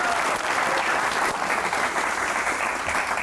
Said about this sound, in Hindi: इन सब के लिए तालियां होनी चाहिए एक बार